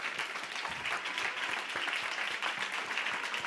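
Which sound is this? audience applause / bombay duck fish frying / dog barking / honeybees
audience applause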